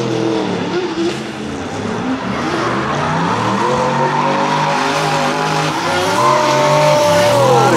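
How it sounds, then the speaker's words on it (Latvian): BMW E46 drift cars, one tuned to 640 hp, tear past at speed with loud screeching tire squeal and roaring engines in a dense, continuous wall of sound. "Abiem diviem labs iemetiens, labā ātrumā šobrīd traucās cauri."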